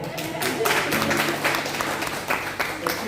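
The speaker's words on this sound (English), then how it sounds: "So clap for him." Audience applause at a keynote speech during an academic conference at Hanoi University of Industry, Vietnam, a steady burst of clapping from a seated crowd lasting a few seconds, with some background voices under it.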